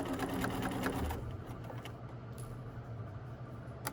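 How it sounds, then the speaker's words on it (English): A sewing machine stitches along the folded edge of a fabric hood with a steady, fairly quiet mechanical hum. It runs busiest at first, then settles into a softer whir. "I just want to double check that I am still stitching on that folded edge."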